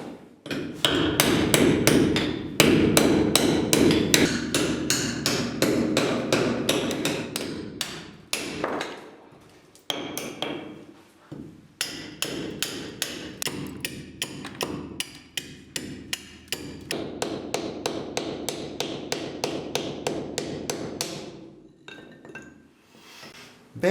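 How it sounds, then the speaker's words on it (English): Bones are split into single sticks on a cutting block, producing a long run of sharp, clinking hammer-like strikes in quick rhythmic bursts with a few brief pauses between. "On the cutting block, he splits the bones into single sticks."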